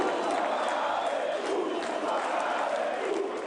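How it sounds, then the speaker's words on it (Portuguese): Guarani football supporters in a stadium chant in unison for their captain Fumagalli, a broad, steady massed roar of voices with a rhythmic swell, distant and continuous. "A torcida canta assim para ele."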